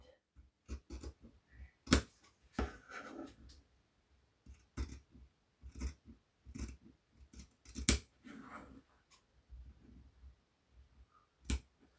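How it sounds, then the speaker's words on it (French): Scissors snip through fabric while a gift pouch is cut out for sewing, a series of crisp, close cuts in short irregular bursts with pauses between, no talking. "Si on le découpe tout de suite, il faudra coudre d'ici à là"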